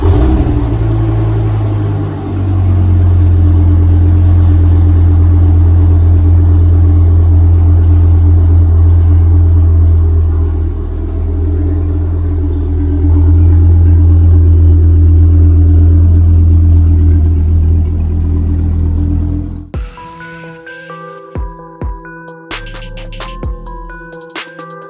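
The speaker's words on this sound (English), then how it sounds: "we're going to do a cold start of the car" A 2006 Dodge Viper SRT-10 Coupe cold starting, its engine rumbling loud and close at a high, steady idle, dipping briefly, then cutting off abruptly, followed by a few scattered clicks and knocks.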